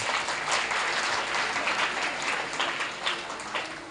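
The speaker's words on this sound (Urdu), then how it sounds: "تو اس بات کے لیے آپ سب اپنے لیے ایک بار تالیاں بجائیے." An audience at a speech event claps together in a sustained round of applause, dense and even, easing slightly toward the end.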